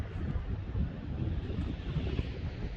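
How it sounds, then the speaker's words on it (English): High surf and strong wind at Mori Point, a steady, loud roar of breaking waves buffeted by heavy wind rumble on the microphone, continuous throughout with no talking. "So see the waves right there. Sound of the waves. It's a high surf"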